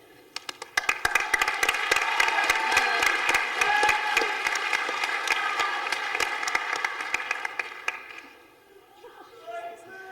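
A pageant crowd at Mr. Parkland 2008 claps for contestants on stage, a loud, sustained burst of many hands with sharp individual claps that thins and fades near the end.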